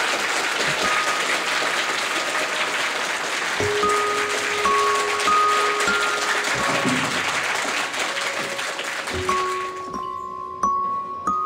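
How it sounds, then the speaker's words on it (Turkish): Sustained applause from an audience at a launch event, dense and steady for about ten seconds before thinning out, with a few tonal beeps or feedback notes sounding through it. "Bir alkış alabilir miyiz?"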